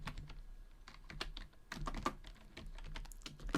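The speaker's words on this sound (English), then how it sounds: "When it's blue, I can just start typing." Rapid clicking of keys on a computer keyboard as a name is typed into a family tree document, quiet and close, in uneven bursts with brief pauses and no talking.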